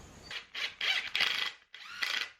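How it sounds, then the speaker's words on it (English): A driver spins 3-inch screws into a wooden French cleat in a workshop, with four or five loud bursts of whirring motor and ratcheting, separated by brief pauses. "I'm just going to take some 3-inch screws here and hopefully get these put into place."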